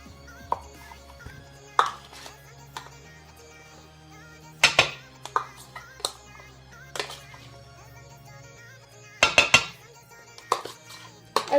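Butter and brown sugar being prepared for chocolate chip cookies in a kitchen, with scattered clinks and knocks of utensils against a bowl, close and irregular over a quiet background.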